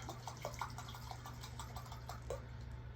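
Shellac is poured into a container in a faint, steady liquid stream with small gurgles and splashes, quiet and close, with no talking.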